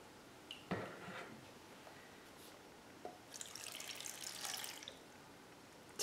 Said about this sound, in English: And then I'm gonna put some water in there.